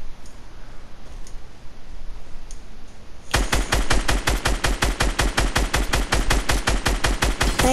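Video game gunfire starts after a quiet stretch: a rapid, loud automatic burst of evenly spaced shots that runs without a break to the end.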